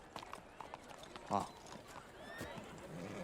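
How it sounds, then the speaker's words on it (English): A horse in a medieval fantasy TV scene gives a short whinny among light hoof clip-clops and background ambience, with faint low voices underneath. "As we watch the Targaryen prince leave his horse unattended, Dunk coming to the rescue as he calms the horse down."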